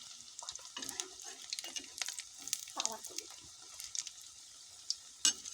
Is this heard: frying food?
yes